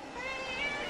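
A cat meows in a short, drawn-out call at close range, heard alone for under a second.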